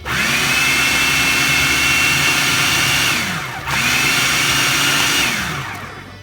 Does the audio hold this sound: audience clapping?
no